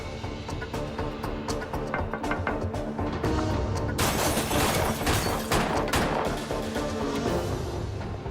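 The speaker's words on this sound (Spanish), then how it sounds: "El testigo escucha los disparos." Dense bursts of gunfire and crashing impacts in a dramatized nighttime police shooting in Queens, growing heavier and louder partway through, with no voices.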